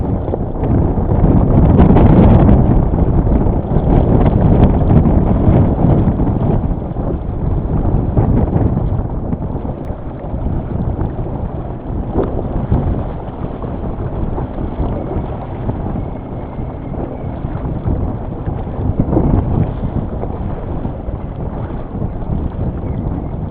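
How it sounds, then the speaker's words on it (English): Strong wind roars and buffets the microphone steadily, with rushing water and creaking from a Potter 15 sailboat beneath the gusts. "Another really big gust."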